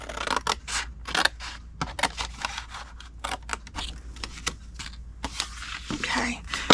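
Scissors snip through paper pieces for a gingham Valentine milkshake craft treat box, producing quick crisp cuts in irregular bursts, close and soft, with quiet talking mixed in between snips.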